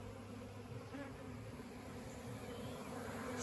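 A honeybee swarm hums around a Layens hive during a swarm install, a steady, dense buzzing drone that stays even and moderately close without pause.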